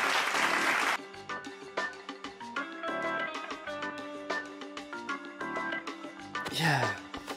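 In-game crowd applause welcoming a new employee at the Mega Mart in the VR game Shooty Fruity, a burst of dense clapping followed by cheerful game music with chimes and another clapping flourish near the end.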